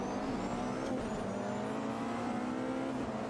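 A WEC race car engine screams flat out through the Monaco tunnel in a racing video game, a loud, steady high-revving drone with a slowly rising pitch and no pauses.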